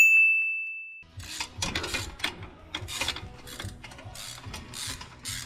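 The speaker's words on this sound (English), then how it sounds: "how we got one of the bell housing bolts off" A bell housing bolt is worked loose from a car's transmission with a ratchet, which clicks in quick irregular bursts, close and fairly loud, after a brief high tone at the start.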